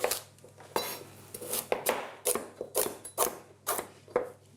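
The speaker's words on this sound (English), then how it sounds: "it can just be rough chopped" Knife chopping parsnip and celery root on a cutting board, a quick run of about a dozen sharp, close blade taps in an uneven rhythm with no talking.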